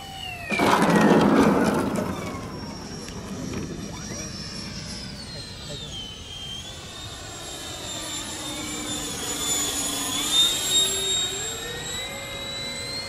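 A Banana Hobbies L39 105mm model jet flies a pass, its turbine whine swelling and shifting in pitch as it goes by, with a short burst of voices early on and distant chatter underneath.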